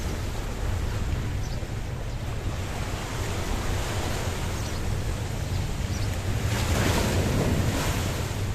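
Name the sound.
choppy sea waves on the Paphos promenade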